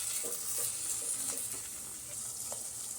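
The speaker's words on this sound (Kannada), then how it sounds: "ಹಾಕ್ಕೊಂಡು ಚೆನ್ನಾಗಿ ತರಕಾರಿ ಜೊತೆ ಮಿಕ್ಸ್ ಮಾಡ್ಕೊಳ್ಳೋಣ" Vegetables stirred with ginger garlic paste in a hot frying pan for veg fried rice give a steady, close sizzle with light scraping and stirring throughout.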